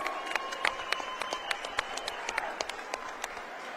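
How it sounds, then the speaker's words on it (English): Applause from the crowd at a Golden Gloves boxing event, made of scattered, distinct claps over a low background murmur, fairly faint and somewhat distant. "A round of applause."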